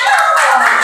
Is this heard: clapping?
yes